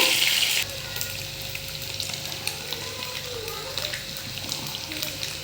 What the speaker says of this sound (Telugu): ఎగ్స్ చక్కగా కారం ఉప్పు పసుపు వేసినాము వేగిపోయినాయి చూడండి చక్కగా ఇలా వేయించుకోవాలి ఎగ్స్ని